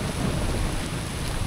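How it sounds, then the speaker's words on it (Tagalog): Heavy rain pours steadily on a farm during a storm, with a dense, constant hiss and a deep low rumble of thunder running underneath. "Kidlat lang ang malakas"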